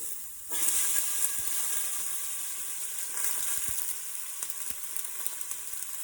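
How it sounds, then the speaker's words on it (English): One chopped yellow onion drops into hot oil and sizzles at once, a steady close hiss that holds for several seconds with a few faint clicks of the pan. "I have a chopped yellow onion, 1 onion, and I'm going to throw that into the oil."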